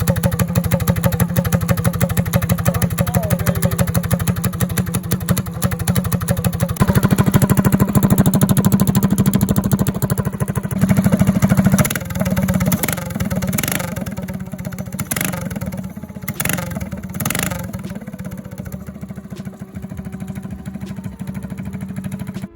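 A Predator 212cc small engine idles and runs after an oil change, a close, continuous chugging rumble with a brief rise in revs and some clattering, no voices over it.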